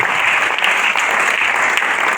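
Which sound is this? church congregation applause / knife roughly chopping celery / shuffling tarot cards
church congregation applause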